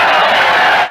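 A huge crowd of 25,000 film extras cheers in a loud, dense roar that fills the brief moment, then cuts off abruptly at the end.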